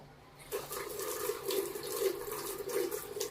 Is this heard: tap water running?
yes